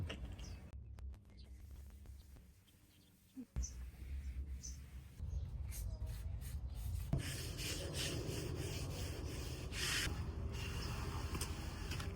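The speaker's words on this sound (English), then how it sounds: "I'm doing a little extra sanding before I add my finish." Rhythmic rasping strokes of sandpaper rubbing over wood, soft at first and then louder and continuous, close up with no voices.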